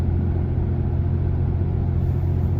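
Cummins diesel truck with a manual G56 transmission cruising in fifth gear at about 1750 RPM on 35-inch tires, a steady, loud low engine drone and road rumble that holds evenly throughout with no talk.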